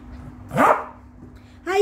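A pet dog gives two short, sharp barks at close range, separated by a pause, indoors at home with a faint background hum.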